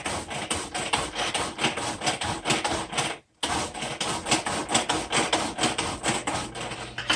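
Manual food chopper being worked rapidly while making Christmas dinner, a dense, steady clatter of quick chopping strokes close by, with one brief pause midway.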